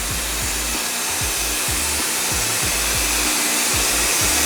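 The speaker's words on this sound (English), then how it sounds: "Spray your material, spray your board." Spray adhesive hissing from a can onto a car headliner board, a steady broadband spray held across the whole stretch with faint repeated low thumps underneath, close and fairly loud, no talking.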